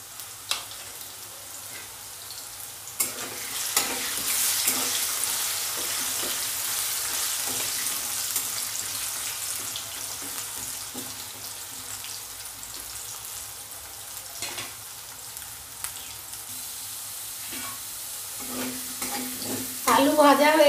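Potatoes fry in hot oil and are stirred now and then, giving a soft, steady sizzle broken by clacks from the utensil. A louder scrape comes near the end.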